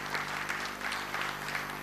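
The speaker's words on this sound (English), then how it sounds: "Ladies and gentlemen, can we have a big round of applause?" An audience at an automotive conference applauds a university rector on a panel, steady mid-level clapping over a constant electrical hum.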